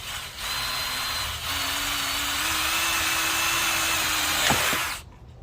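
Power drill boring into a Sprinter van body, with wood underneath the panel. The motor whines steadily for several seconds after a brief start, then cuts off abruptly.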